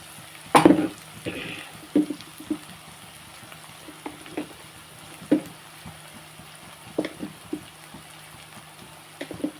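Spices fry in oil in a pan for a carrot and plantain curry, with a faint steady sizzle broken by a few sharp scrapes and clinks of stirring. No one speaks.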